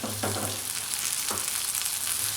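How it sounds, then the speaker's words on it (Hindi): Tomatoes hit a pan of sautéed ginger and garlic for a keema karela dish, raising a steady loud sizzle with brief stirring scrapes, close up and without talk. "अब मैं इसमें टमाटर ऐड करूँगी।"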